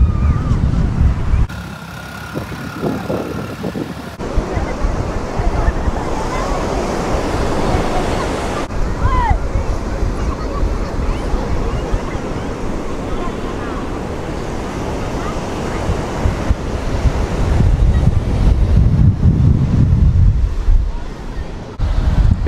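Surf and strong wind on a beach: continuous rushing waves and heavy buffeting wind on the microphone, loud and close throughout, with swelling crests near the end.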